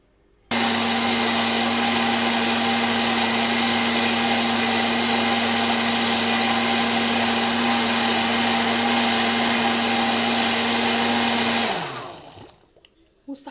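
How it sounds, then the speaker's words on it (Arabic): A kitchen blender roars steadily for about eleven seconds at full speed, then winds down and stops; no voices over it. "عشان خاطر يمشوا لي الخلاط وينعموا لي الخليط ده كله مع بعض"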